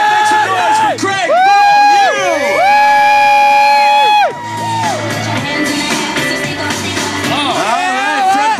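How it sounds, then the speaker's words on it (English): A large outdoor crowd at a skateboarding demo in Yonge & Dundas Square cheers, whoops and shouts loudly and continuously for a skateboarder. High excited voices and shrieks ride over the roar, which eases slightly toward the end. "All right, make some noise for Craig!"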